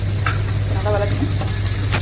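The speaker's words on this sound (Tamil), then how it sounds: "நல்லா வதக்கணும்." Chili powder, salt and spices sautéed in hot oil for a beetroot curry, a steady close sizzle with light stirring scrapes throughout, with no talking over it.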